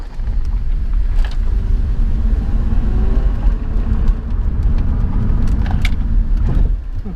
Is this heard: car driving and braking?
yes